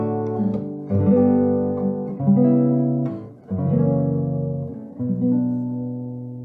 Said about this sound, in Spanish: Y el círculo de cuartas suena así.